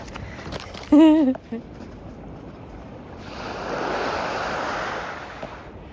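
Waves washing onto a small beach, a soft steady surf that swells louder in the second half under light wind, heard after a brief voice near the start.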